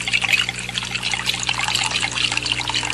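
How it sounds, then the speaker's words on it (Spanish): Water pours steadily into another container of a different size and shape, a continuous close, bright splashing trickle for the whole span with no talk. "vacía el agua en otro recipiente de distinto tamaño y forma."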